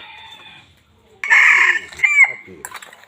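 A decoy rooster crows loudly and close by, one strong cock-a-doodle-doo followed by a few shorter clucking notes, with another bird calling faintly beforehand.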